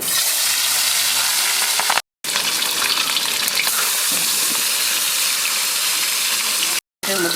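Pabda fish fry in hot oil in a kadai, with a loud continuous sizzle and crackle that cuts out briefly twice.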